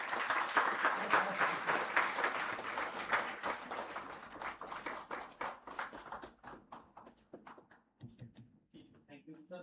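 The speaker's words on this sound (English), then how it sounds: "Huge round of applause." Audience applause at a National Technology Day celebration honouring a chief guest, a dense burst of clapping that thins into scattered individual claps, with voices emerging near the end.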